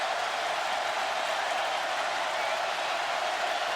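A stadium crowd at a 2014 college football game between Missouri and South Carolina roars in a steady, dense wash of cheering that holds at a constant level without a break.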